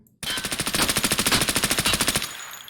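An AS VAL rifle in a video game fires one rapid, evenly spaced automatic burst of roughly twenty suppressed shots at close range, stopping abruptly with a brief tail.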